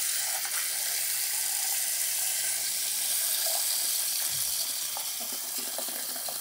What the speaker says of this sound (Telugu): కొంచెం నీళ్ళు పట్టుకున్నాం